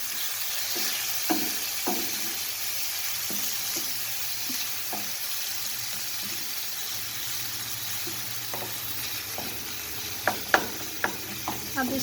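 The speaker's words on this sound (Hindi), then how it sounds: "अब इसको हल्के हल्के आपने हल्की आंच पे बिल्कुल भूनना है अच्छी तरह से" Tomatoes fry over low heat in a pan for an omelette, giving a constant soft sizzle broken by scattered clicks and scrapes of a stirring spoon, a few sharper knocks near the end.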